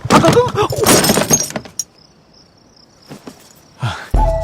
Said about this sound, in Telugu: సైడ్ మిర్రర్ గ్లాస్ బ్రేక్ అయి ఉంది